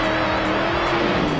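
Grave Digger monster truck driven by Dennis Anderson at Monster Jam, a loud, steady engine drone with pitch sliding up and down as it works, dense roar throughout.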